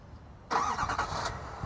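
A 2024 GMC Sierra 3500 HD Denali Ultimate diesel truck engine cranks and fires by remote start after a quiet moment, then settles into a loud, close idle rumble.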